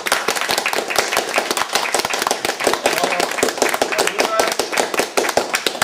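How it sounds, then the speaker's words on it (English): Steady crowd clapping at a game jam presentation fills the whole stretch, dense and continuous, with a room full of hands going at once and voices mixed faintly beneath. "please, a round of applause"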